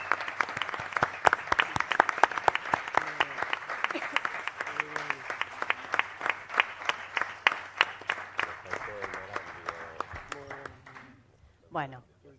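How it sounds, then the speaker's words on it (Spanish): Audience applause at an AI conference panel at a university rises as a dense burst of clapping, then thins and tapers over several seconds while a voice speaks over it, ending in a few scattered claps. "realmente pido un gran aplauso a todos estos"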